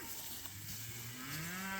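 A single cow moos, a long low drawn-out call that rises slightly in pitch, fairly close, with no talking.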